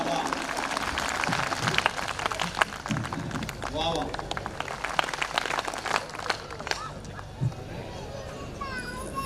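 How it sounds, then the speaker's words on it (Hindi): Audience clapping at a Hindi comedy poetry show (hasya kavi sammelan): scattered, uneven applause with busy crowd chatter and murmuring throughout, steady for about nine seconds. "तालियां पूरे सदन की एक बार बज जाएं ताकि उनका मूड बन जाए।"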